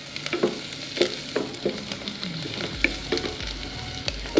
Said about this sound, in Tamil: வெங்காயம் கருவேப்பிலையில் நல்லா வதங்கணும்.